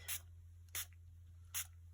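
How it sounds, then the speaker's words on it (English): Three short bursts from a can of pink spray paint, hissing at a steady pace over a constant low hum, each burst lasting a fraction of a second. "let's see what happens if I spray the pink"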